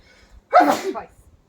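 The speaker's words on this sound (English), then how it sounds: "Don't know if we paid off on that sneeze I mentioned earlier" One loud, close sneeze bursts out suddenly after near silence, ending with a short trailing breath.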